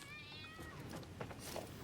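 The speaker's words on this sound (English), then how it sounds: "And then let's deal with the cat." A creature in the factory-building video game Satisfactory gives one short, falling meow at the start, followed by scattered noisy rustles and thumps.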